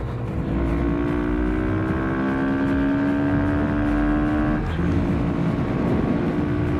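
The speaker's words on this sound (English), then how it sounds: "Let's throttle it." A Honda Monkey motorbike engine is held at full throttle while pulling up a hill, a loud, close, sustained drone whose pitch rises steadily, then dips briefly and climbs again.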